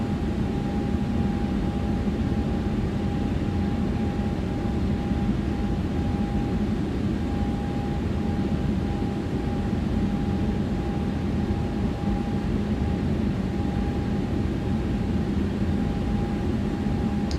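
A ToLiss A321neo airliner climbs after takeoff in X-Plane 12, its engines giving a steady, unbroken cockpit drone with a faint constant hum, and no voices.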